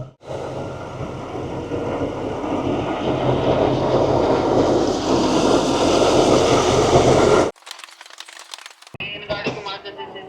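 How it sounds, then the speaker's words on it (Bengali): Shivalik Express pulling out of Kalka station, a loud continuous rumble of the train departing for about seven seconds, then cut to quieter crackling and clatter with voices nearby. "শিবালিক এক্সপ্রেস 5:45 টাইম ছিল, সঠিক সময়ে ছেড়ে যাচ্ছে কালকা"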